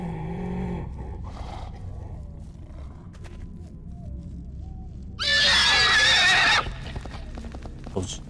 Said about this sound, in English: why is there a horse?